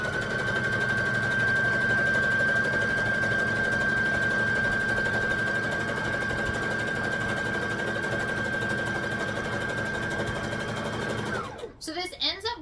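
A sewing machine runs a long continuous seam on a wrap skirt, a loud steady whirring hum with a high whine, ending abruptly near the close, when a voice speaks briefly.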